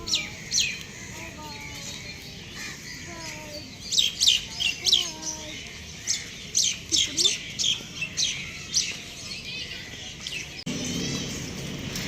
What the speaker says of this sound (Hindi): परिंदों की आवाज़ें बहुत प्यारी आ रही हैं